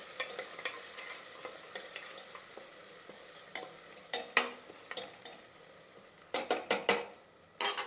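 Salted kichidi mixture with ginger and garlic stirred in a pot, a soft background sizzle broken by irregular scraping and clanking strokes of a spoon, growing sharper and louder toward the end.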